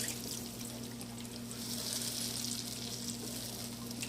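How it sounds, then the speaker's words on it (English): Water hisses and sizzles as it is poured into a hot pan of citrus shrimp, a steady, fairly quiet frying crackle over a low hum. "So let me get the water in here"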